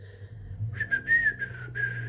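Toy whistle blown in a few short, bright toots with a slightly wavering pitch, close and clear over a low background hum, no speech.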